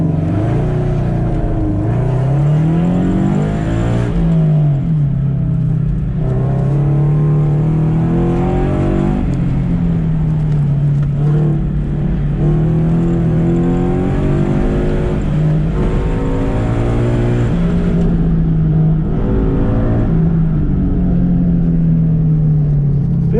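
A Subaru FRS on an autocross course roars loudly from inside the cabin as it accelerates, the engine note climbing and dropping through constant throttle changes with no pauses.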